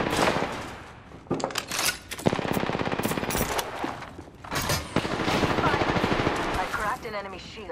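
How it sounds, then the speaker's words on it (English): Smart bullets fire in rapid automatic bursts during video game combat, loud and dense with impacts and booms, while voices talk over the shooting. "smart bullets hit our foe."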